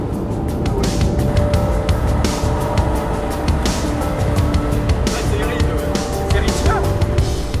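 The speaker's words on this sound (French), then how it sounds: "C'est le Dominator qui arrive à fond de balle derrière." The Dominator, an armoured storm-chasing vehicle in Tornado Alley, arrives at full speed: a loud, steady engine roar with road noise running throughout, under someone speaking French.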